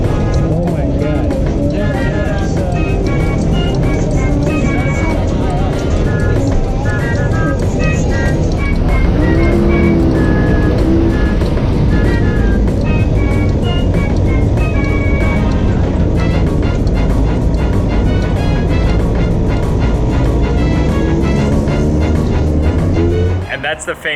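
Traffic and dense crowds at Shibuya Crossing in Tokyo form a loud, continuous city roar of vehicles and footsteps, with people talking over it throughout.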